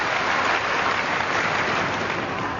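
A crowd applauds steadily at the 1990 All England badminton championships during a women's singles match, a dense and even wash of clapping that fills the hall without pause.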